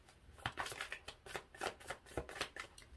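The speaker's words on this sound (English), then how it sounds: "Get your cards good and shuffled" Tarot cards are shuffled by hand in quick rhythmic riffles, a run of soft papery flutters close to the listener, with no talk.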